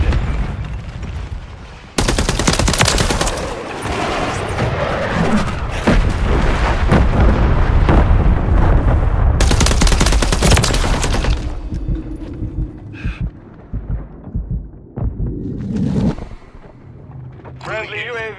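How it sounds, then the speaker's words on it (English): A remote turret battery firing in a multiplayer shooter game, long loud bursts of rapid automatic fire mixed with booms, then choppier shots, with game voice announcements over it. "Remote turret battery deployed."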